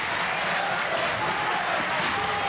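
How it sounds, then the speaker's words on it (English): Dense, sustained applause and clapping from an enthusiastic arena crowd at the 1992 A10 final basketball game, West Virginia at UMass, filling the space evenly and loudly without a break. "it's an enthusiastic crowd."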